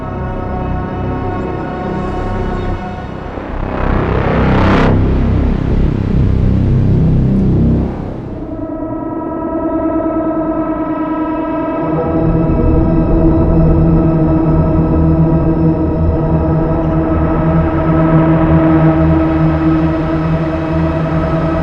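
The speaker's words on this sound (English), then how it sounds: "Saturated reverb." A loud, sustained modular synth drone with saturated shimmer reverb: rich stacked harmonic tones hold throughout, swelling into a dense, noisy wash for a few seconds before settling back into a thick, even hum.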